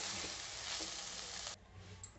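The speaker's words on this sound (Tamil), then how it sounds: "இந்த மாதிரி இடையிடையே எடுத்து கிளறி விடுங்க" Broad beans cooking in a pan are stirred, producing a steady frying hiss with a couple of soft scraping strokes before the sizzle suddenly drops away.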